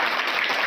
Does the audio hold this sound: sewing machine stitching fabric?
no